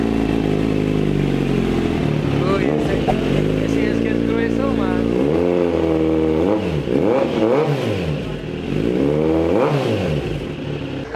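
A motorcycle exhaust revs repeatedly, rising and falling in deep throaty bursts, loud and close, with voices faintly underneath.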